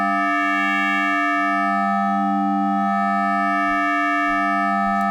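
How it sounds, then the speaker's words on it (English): A sustained FM wavetable synthesizer tone from Ableton's Wavetable, with stacked bright harmonics and a slow wavering shimmer, steady and fairly loud. "you can get some crazy sounds with the FM"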